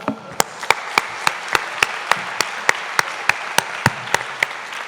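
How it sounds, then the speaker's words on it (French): Sparse, slow hand claps ring out one by one at a steady pace, a small scattering of applause rather than a full ovation, at the opening of a real estate conference. "Applaudissements"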